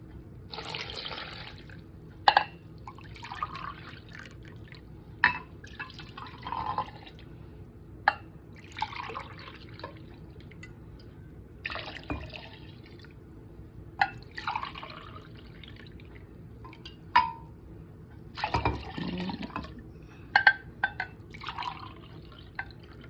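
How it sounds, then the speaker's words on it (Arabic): Milk poured by the cupful into a blender over sweet potato pieces, six cups in all, giving intermittent splashes, drips and glugs with short pauses between them and no talking. "بعد ما حطينا البطاطا في الخلاط هنحط عليها 6 كوبايات حليب"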